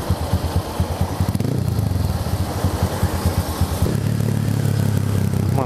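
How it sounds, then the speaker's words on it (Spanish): A Titan 190cc motorcycle's exhaust burbles with a deep, rapid pulsing beat while being ridden, close and loud, shifting to a smoother, denser drone as the engine settles. "Se siente lindo el escape, ¿no?"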